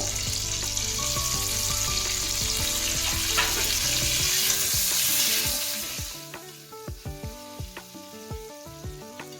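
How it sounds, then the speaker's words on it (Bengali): Chicken pieces dropped into a hot pan for a winter chicken soup with ginger, erupting into a loud crackling sizzle that settles after several seconds into quieter frying with scattered stirring clinks and knocks. "এবার আমি এখানে মধ্যে চিকেনটা দিয়ে দেবো"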